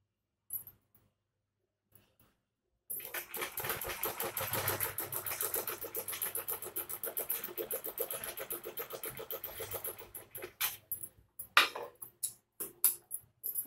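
A sewing machine stitches kurti fabric in a rapid, steady mechanical run lasting several seconds, then slows into a few separate bursts and clicks near the end, close and alone without talk.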